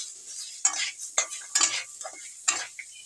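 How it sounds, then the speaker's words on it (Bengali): A spatula stirs tomato, turmeric and salt in a pan, giving a series of quick scraping strokes over a soft sizzle, close up and with no talking. "ভালো করে নেড়ে নিই।"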